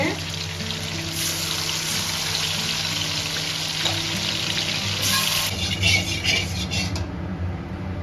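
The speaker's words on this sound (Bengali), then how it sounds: "সবগুলো এভাবে ভেজে নেব লাল করে" Chicken pieces fry in hot oil until reddened, a dense continuous sizzle close by with occasional clinks of a utensil, steady and loud throughout.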